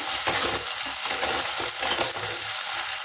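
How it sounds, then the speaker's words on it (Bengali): Potatoes and onions fry in a pan, close and loud, with a continuous sizzle broken by the scrape and clatter of stirring and no talk. "আলু আর পেঁয়াজটা একটু ভাজা ভাজা করে নেব হালকা করে"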